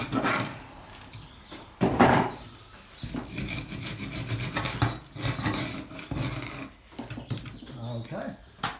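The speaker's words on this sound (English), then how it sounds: "we just as well saw them off" Hand saw cutting through the woody roots of a Deshojo maple root ball during repotting, a rough rasping stroke sound with bursts of louder strokes, under intermittent talk.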